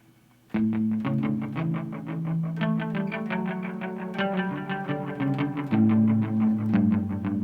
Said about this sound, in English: I usually run my reverb tank right around there, and I have the dwell up a little bit.